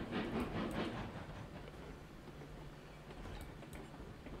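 A steam locomotive in the game RailRoads Online chugs steadily with a rhythmic, hissing exhaust beat and faint rail clatter, loudest in the first second and then settling into a quieter, even run.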